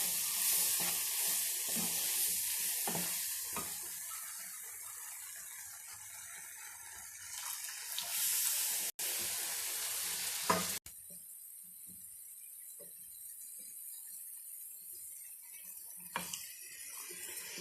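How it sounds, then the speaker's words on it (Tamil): Sugar syrup is poured into cooking wheat flour halwa and stirred, giving a steady, loud hissing sizzle with bubbling and scraping that shifts abruptly partway through. "கொஞ்சம் கொஞ்சமாக சேர்த்து நல்லா கலந்து விட்டுட்டே இருக்கணும்."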